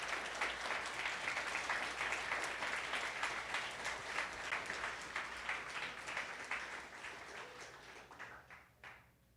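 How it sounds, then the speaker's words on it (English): Sustained applause from an audience after a talk, steady dense clapping that tapers off toward the end. "can we get a round of applause for Jonathan?"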